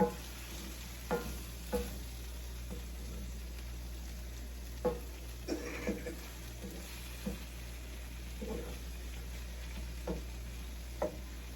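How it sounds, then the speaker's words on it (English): Goulash with ketchup being stirred in a pot over heat, a soft simmering sizzle with occasional spoon taps and scrapes against the pot at irregular intervals, close and quiet. "stir that all around real good"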